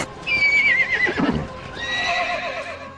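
Horse neighing loudly and close, a rising then falling whinny followed by a second longer whinny, with a few hoof sounds in between.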